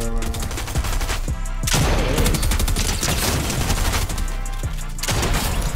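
Rapid gunfire bursts from Fortnite Season 3 weapons crack in dense, overlapping volleys for nearly six seconds, loud and close, with a brief lull around the middle before the shooting resumes.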